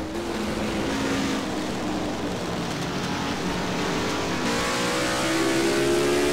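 A race car engine in a DASCAR KLM Series event at Delaware, running rough as if down a cylinder, drones loud and close with a steady uneven rasp and rising revs toward the end.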